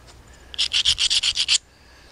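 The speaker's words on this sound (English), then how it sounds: "what I'm really doing is I'm going down through here and just taking very, very fine sharpening flakes off of the edge" Pressure flaking on a glass arrowhead edge gives a quick run of about eight short, sharp scratching rasps, close and crisp, set against near silence.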